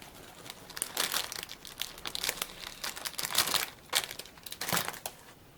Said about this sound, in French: je vais couper un morceau de tulle